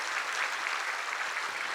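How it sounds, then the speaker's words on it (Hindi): A spiritual congregation at a satsang gathering breaks into a continuous, even roar of applause, many hands clapping together at a moderate distance with no voices standing out. "हम सब तालियों की गड़गड़ाहट कर रहे हैं"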